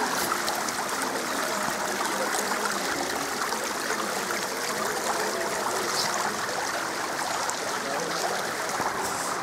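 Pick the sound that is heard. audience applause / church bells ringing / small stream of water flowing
small stream of water flowing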